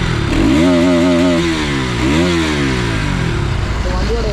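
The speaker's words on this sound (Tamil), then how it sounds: "வண்டியோட எக்ஸாஸ்ட் நோட்டு கேட்கலாங்க." Exhaust note of a 2025 Bajaj Pulsar RS 200 motorcycle, loud and close, revving up and dropping back in repeated swells with a rising and falling engine pitch.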